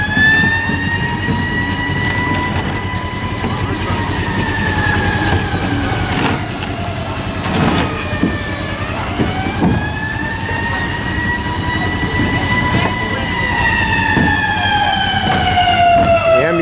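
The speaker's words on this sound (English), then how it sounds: "The ambulance going to help somebody." An emergency siren rises and falls in repeated wails over steady traffic rumble, loud and close as the vehicle passes, with no talking.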